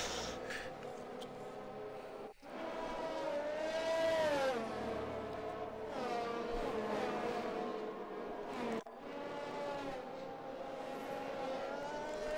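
A race car roars past on track, engine tone rising and falling in long sweeping whines with a sharp break near the start and another later, loud and sustained throughout.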